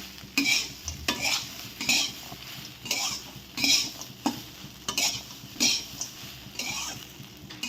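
Fried semolina upma gets mixed in a pan with roasted peanuts, a rhythmic run of close scraping stir strokes from a utensil against the pan, repeating roughly every half second over a faint sizzle.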